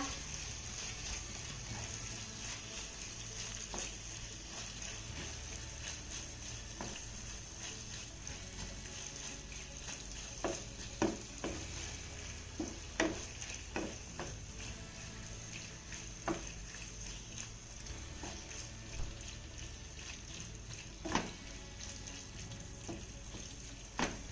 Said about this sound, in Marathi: याला देखील आपण दोन ते तीन मिनिटं छान अशा परतून घेऊया